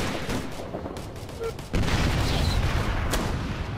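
Gunfire in Operation Flashpoint: Red River, a dense volley of rifle shots and booms that swells suddenly into heavier, louder firing partway through, with faint talk mixed in.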